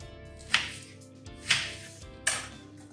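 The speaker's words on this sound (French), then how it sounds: "on va les hacher avec les oignons rouges" Three sharp knife chops cut through garlic cloves and red onions on a board, evenly spaced about a second apart, crisp and close with quiet gaps between.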